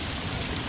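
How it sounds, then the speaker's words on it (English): Heavy storm rain pours steadily in a dense, even hiss with no breaks, filling the whole short stretch at a constant loud level. "it is storming. Like, it came out of absolutely nowhere again, and it is raining so hard"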